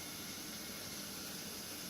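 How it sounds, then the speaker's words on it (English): Vegetarian food sizzles in a pan over a medium flame, a continuous dense hiss of frying that stays even and close throughout the short moment with no voices. "You can hear the sizzle."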